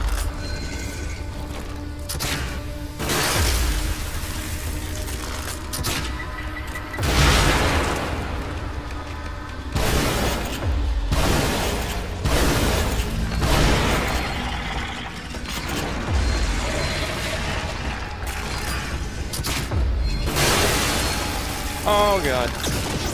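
Freeze bolt shots crack and shatter enemies in The Evil Within, a survival horror game, as a run of loud bursts, pops and crunching impacts over dense in-game mechanical noise and rumble.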